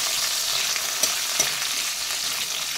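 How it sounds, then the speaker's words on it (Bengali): Capsicum and chopped tomato frying in oil for a Bengali fish dish, a steady close sizzle with two sharp scraping knocks of a spatula stirring the pan, no talking. "এবার আমি ক্যাপসিকামগুলো দিয়ে হালকা একটু ভেজে নেব। আর দেব কেটে রাখা টমেটো। হালকা একটু নাড়াচাড়া করে নিচ্ছি।"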